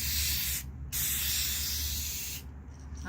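Rust-Oleum mirror effect spray paint hisses from an aerosol can in steady close bursts, with two short gaps where the nozzle is released, continuous broadband spray throughout.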